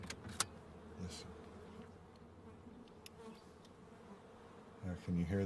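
Steady, faint buzzing of many bees among almond trees heard from a distance, with a few louder passes near the start and a brief thump at the end.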